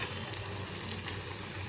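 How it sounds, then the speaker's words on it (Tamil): Fish cutlets deep fry in hot oil, a steady close crackling sizzle with tiny pops throughout and no talk. "நான் இன்றைக்கி எண்ணெயில் பொரிக்கிறேன்"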